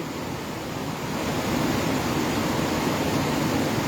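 Strong, swollen river current rushing steadily after high water, a dense continuous roar that stays loud and unbroken throughout with no voices.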